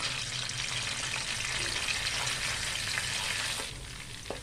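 Ginger-garlic paste frying in about half a cup of hot oil in a kadhai with bay leaves and cumin, giving a steady, loud, close sizzle that fades slightly near the end, with no talking.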